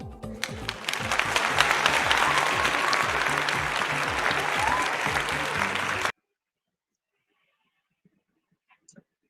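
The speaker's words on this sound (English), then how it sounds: "with a round of applause, let's welcome Coach Onyekachi Okeke to the" An audience at a parenting session applauds as a coach is welcomed to the stage: loud, dense, continuous clapping for about six seconds that stops abruptly, leaving near silence with a couple of faint clicks.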